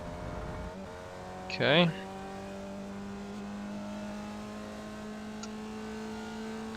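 A Formula Vee race car in iRacing drones steadily on its engine at the New Hampshire Roval, with a brief rising rev burst early on and a short spoken word over the constant hum.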